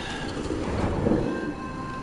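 Pigeon-like birds cooing in a video game, a soft steady murmur of coos over a low rumbling background hum, no talk.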